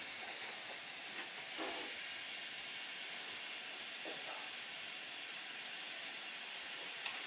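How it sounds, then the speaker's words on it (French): Ground pork cooks in a pan with a steady, faint broadband hiss of sizzling that runs unbroken, with a few soft spoon scrapes and taps. "Pendant que le porc haché cuit"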